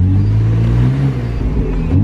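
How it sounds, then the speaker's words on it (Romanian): A loud, close BMW Z4 sports car exhaust drones and rumbles at low pitch, engine revving steadily without any talking. "Dacă voiați voi să auziți evacuarea"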